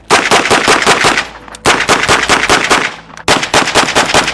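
A SIG MPX submachine gun fires three long, loud automatic bursts in quick succession, each a rapid string of sharp reports, with short pauses between bursts.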